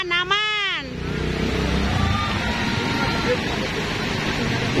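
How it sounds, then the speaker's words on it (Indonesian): A Pertamina fuel truck drives past during a night flood in a village, its engine a steady mid-distance rumble that lingers after a brief voice and whistle-like tone at the start. "Oh, mobil Pertamina, Mas."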